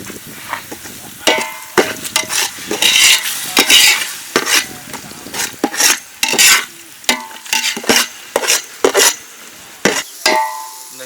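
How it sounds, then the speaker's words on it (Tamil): Ginger garlic paste with shallots and green chili frying in a pan for biryani, stirred with a metal spoon in repeated scraping strokes and clinks over a steady sizzle, close and loud. "இந்த இஞ்சி பூண்டு பேஸ்ட் போட்டாவே நல்லா வந்து கிளறி விட்டுனே இருக்கும்"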